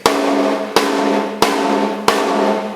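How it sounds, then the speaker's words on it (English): Four evenly spaced drum hits with a blast stick of bundled bamboo rods, each a soft-edged thwack followed by a ringing tone, played alone in a steady slow rhythm. "This is the sound of a blast stick."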